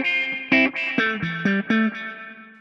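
Electric guitar through a Tonex 1.8 spring reverb effect, a short phrase of distinct plucked notes, each with a bright attack and a reverberant tail, close and clear with no talking.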